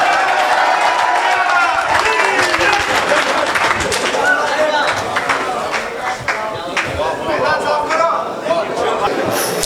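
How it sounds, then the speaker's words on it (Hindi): Loud, sustained audience applause at an All India Mushaira poetry gathering organized by Anwar Urdu High School, a dense continuous crackle of many hands with scattered cheers, lasting throughout without a break. "आप सबकी तालियों की गड़गड़ाहट"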